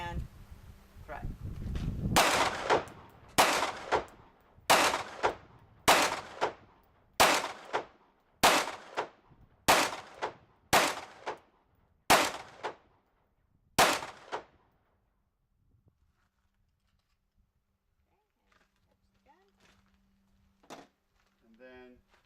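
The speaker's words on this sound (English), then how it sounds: "go ahead and carefully fire all 10 rounds, center of the target" Handgun fired ten times at a target during a CCW qualification course at a range, steady shots about a second apart, loud and close, followed by quiet with faint background sounds.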